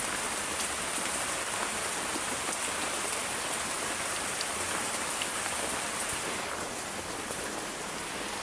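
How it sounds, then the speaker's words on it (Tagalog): Heavy rain pours down in a steady, dense hiss that stays loud and unbroken throughout, with scattered sharper drops striking a surface close by and no voices. "Lakas ng ulan."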